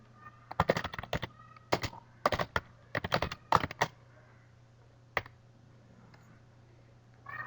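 Someone types a blog post on a computer keyboard in a quiet room: several quick bursts of close keystrokes, then a pause, a single later key click and near silence.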